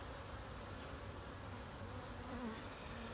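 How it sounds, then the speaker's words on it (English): A steady, close buzz of honey bees swarming around an open hive during an inspection, dense and continuous with no voices. "They're really buzzing me."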